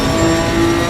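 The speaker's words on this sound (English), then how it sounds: "the raw mechanical squeaks and shrieks over the wicked exhaust tones" A GT race car's exhaust in the racing game Assetto Corsa Competizione drones loudly and steadily at a held engine pitch, close and continuous for the whole second with no other sounds.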